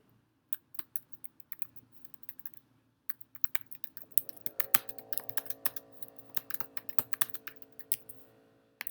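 Keys clatter steadily on a computer keyboard as a description is typed into a bookmark form, soft and close, growing busier partway through while a faint steady tone hums underneath.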